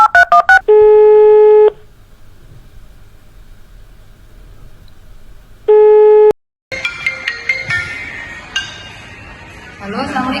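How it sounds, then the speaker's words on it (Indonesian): Telephone keypad dialing tones and a busy signal ring out loud and clear, a quick burst of DTMF beeps followed by steady repeating tone bursts, then clattering handling noise and faint background activity afterward. "Coba telepon aja Kak."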